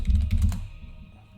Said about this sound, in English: We'll type in herbalist.